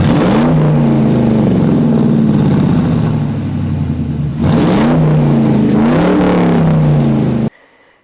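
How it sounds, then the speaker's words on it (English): A 2003 Ford Mustang GT V8 with side exit exhaust revs loudly and close, a deep rumbling burble climbing and falling through two throttle blips before cutting off suddenly. "we got the side exit exhaust. It makes good noises now."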